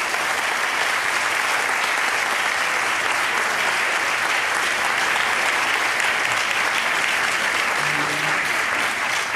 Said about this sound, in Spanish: muy especialmente también el aplauso de todos